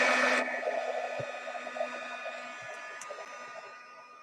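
A heat drying tool whirs over mixed media paint on an envelope, loud at first and then a steady fading hum, with faint clicks and handling sounds.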